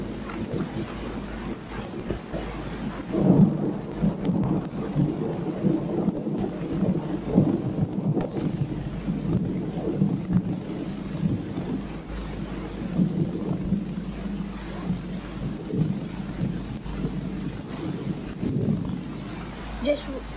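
Steady heavy rain hisses throughout a thunderstorm, with low rumbles of thunder rolling underneath and a voice talking over it.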